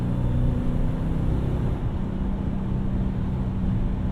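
A Ford Crown Victoria engine runs through Flowmaster 40 mufflers with chrome tips, a steady, deep droning exhaust rumble that eases slightly partway through, heard from inside the car.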